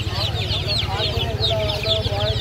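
Chicks and hens cluck and peep continuously among a market crowd at a pigeon and poultry hat by Faridpur railway station, with local hens' chicks and farm broiler chicks for sale; steady chirps ride over a low murmur of people talking.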